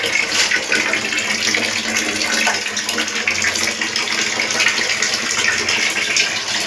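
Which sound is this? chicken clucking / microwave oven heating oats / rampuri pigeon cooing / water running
water running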